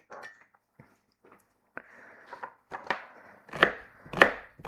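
A knife slices through food for vegan pulled pork on a board, giving a series of irregular chopping taps that grow louder and sharper toward the end, with no talking.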